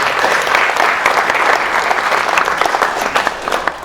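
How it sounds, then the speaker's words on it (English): An audience at a county blight remediation summit claps in a round of applause, loud and dense at first, then thinning into scattered individual claps toward the end. "First of all, give yourselves a round of applause for you being here."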